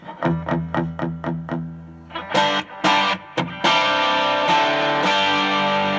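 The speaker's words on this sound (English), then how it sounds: "let me play some more distorted tones" A Hofner HCT CS10 electric guitar on the bridge pickup, through a compressor and overdrive, plays a run of short plucked notes, then heavily distorted chords ring out loud and sustained.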